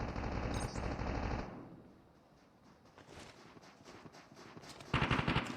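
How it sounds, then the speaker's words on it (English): Call of Duty Mobile gunfire in a battle royale match: rapid automatic bursts up close, then a quieter stretch of scattered distant shots, and another loud rattling burst near the end. "Teammates are now shooting across the way, seeing if they can get some hits."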